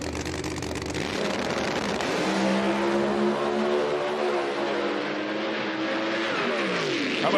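A drag race car making a single pass down a drag strip at an IHRA Pro Mod event in Milan, Michigan: a loud, continuous engine roar climbing in pitch through the gears, heard from nearby with no talking.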